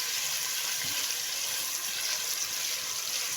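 Kinnow orange peels rinsed under a tap, a continuous close hiss of running water with no breaks or voices.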